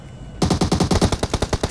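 Rapid automatic gunfire in the mobile game PUBG Mobile rattles off as a loud, evenly spaced burst of about a dozen shots that starts abruptly after a brief quiet.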